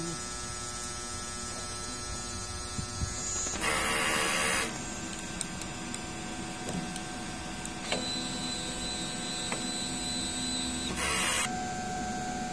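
A DTF printer's head runs a strong cleaning cycle with a steady electric whir and hum, broken by two louder bursts of pumping or wiping noise near the start and end.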